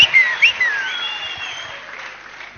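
Church congregation applause fading out, a few loud claps at first, then a dwindling patter under a high sustained tone, growing quieter toward the end.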